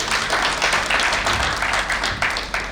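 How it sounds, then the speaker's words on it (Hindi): Audience applause at an alumni meet, a steady wash of many hands clapping throughout, loud and close, with slight swells and no pauses. "एक बार फिर से जोरदार तालियां।"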